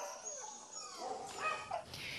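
Several dogs bark, yip and whimper at an animal shelter, a faint, overlapping chorus of short calls heard from a distance.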